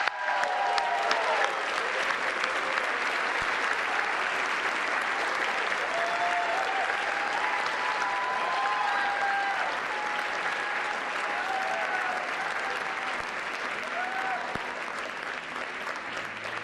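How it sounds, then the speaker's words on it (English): A large audience at a White House press association dinner gives a long, steady round of applause, dense clapping continuing at an even level with faint voices and crowd murmur beneath. "let's give him a big round of applause"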